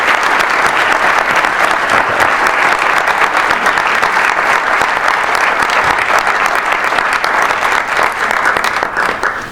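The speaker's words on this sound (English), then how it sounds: "I love it when people clap at the beginning." A large conference audience applauds as Allan Savory, introduced as an innovator and visionary, takes the stage: dense, steady clapping from many hands, loud and close, holding evenly for nearly ten seconds before thinning at the end.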